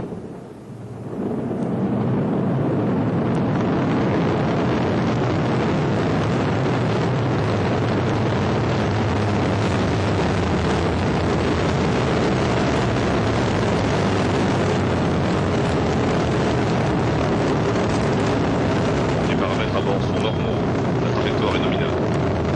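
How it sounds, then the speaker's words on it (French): Ariane 5 rocket lifting off with its Vulcain main engine and solid boosters firing, a deep, continuous roar that swells within two seconds and then holds loud and steady with heavy low rumble and crackle. "Ariane is lifting off, burning the engines"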